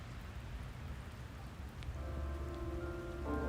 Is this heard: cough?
no